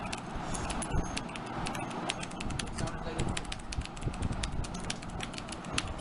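A TVS Gold mechanical keyboard being typed on up close, with a steady stream of quick light key clicks continuing throughout over a low background hum.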